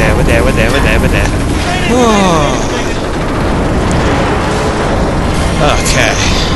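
A massive structure collapses and breaks apart in the video game Portal 2, with a continuous loud rumble of crashing debris and wind-like roar that fills the whole stretch, and a voice can be heard over it.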